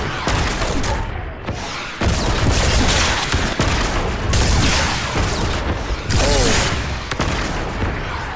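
Repeated rocket blasts and explosive booms from a quad rocket launcher in Fortnite, loud bursts in quick clusters with mechanical reload clatter between them.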